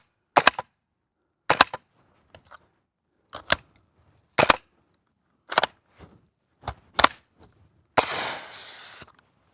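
VFC SCAR gas airsoft rifle firing BBs, a string of about eight sharp separate pops spaced irregularly, then a brief hiss of escaping gas, close and loud with no talk.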